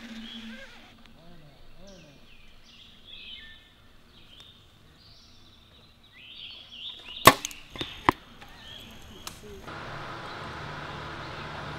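Gold Tip arrows shot with a bow outdoors, giving a few sharp, loud snaps and thwacks in quick succession midway, after a quieter stretch of birdsong and faint background noise.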